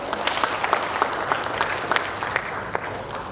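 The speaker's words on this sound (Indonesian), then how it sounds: "Ya boleh tepuk tangannya sekali lagi Pak." An audience at a gala dinner for Kabar Makassar's 14th anniversary claps steadily, with dense clapping and a few sharper individual claps standing out, continuous throughout.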